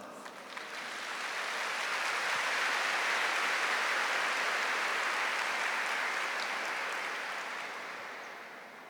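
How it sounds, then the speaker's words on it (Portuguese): Church congregation applause at a Catholic prayer service, a dense sustained wash of clapping that swells in, holds steady for several seconds and slowly tapers off. "Aplauda essa palavra."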